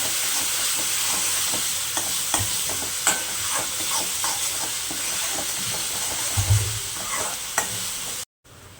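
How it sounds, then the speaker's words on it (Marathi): Thecha, a chili chutney, roasts in a pan with a constant close sizzle and intermittent scraping and tapping from a stirring spatula, ending in a sudden brief silence. "आणि आपण आहे ना आता ह्याला चांगलं असं मस्त एकदम भाजून घेऊया"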